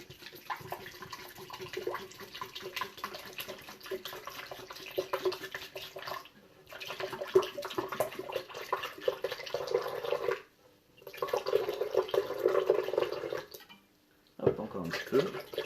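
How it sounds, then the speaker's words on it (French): Apple juice poured from a bottle for a smoothie, a liquid stream splashing into a container in several bursts separated by short pauses, quiet and close. "Je vais y mettre donc la moitié d'un litre de jus de pomme."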